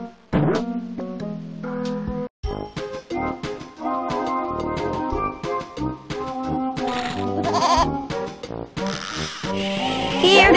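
Cartoon goat in the Putt Putt Joins the Circus video game bleats repeatedly amid playful game music and sound effects, the wavering bleats loud and close.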